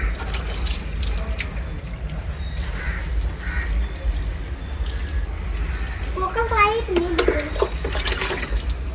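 Two children pour water onto plants, producing splashing and trickling outdoors while kids chatter and crows caw in the background.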